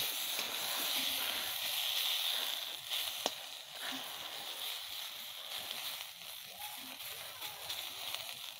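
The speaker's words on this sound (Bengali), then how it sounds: "লাল লাল করে একটা একটা করে ভাজবো" Fish frying in oil in a pan while tomato-based fish curry is prepared, giving a steady, quiet hiss and sizzle that continues throughout with a faint click near the middle.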